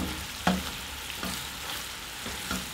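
Sugar syrup with orange peels simmering low and thickening in a pot, a soft bubbling hiss broken by a few spoon scrapes and taps as it is stirred.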